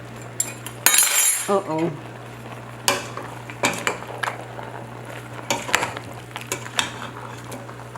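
Goat meat with skin, seasoned with salt and black pepper, is stirred in a pot, giving sporadic metal scrapes and clinks over a low steady hum, with a brief exclamation from a voice.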